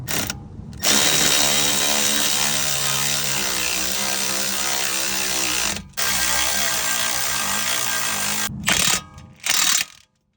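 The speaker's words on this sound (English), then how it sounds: "I'll finish it off with the impact, the 1/2 inch impact" A half-inch impact wrench runs up the front brake caliper bolts on a Ram Promaster 2500 in several long, loud hammering bursts with short gaps between them. Close by and with no talking.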